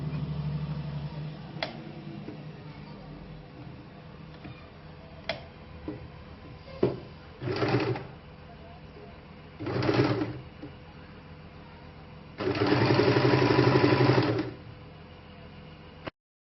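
Sewing machine stitching fabric for an apple cut kurti: quiet ticks and clicks at first, then three short bursts of stitching, the last one the longest, close up.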